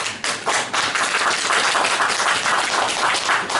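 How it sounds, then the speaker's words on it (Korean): Applause and clapping from an audience in the back of a room during a mayoral candidate's press conference in Gumi, a dense, steady patter of many hands lasting throughout, with no talk over it. "저 뒤에 박수 치지 마십시오"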